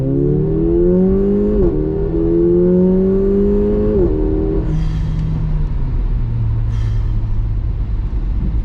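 Mercedes CLA 45 AMG accelerating hard with its exhaust valve open, engine note climbing loudly through quick DSG gearshifts, each shift a brief dip before the revs rise again, then settling into a lower drone.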